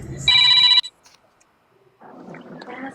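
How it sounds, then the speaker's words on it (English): A phone rings with one short, bright electronic tone burst, followed by a pause and then a muffled, buzzy second ring. "Hold on, I got a phone call."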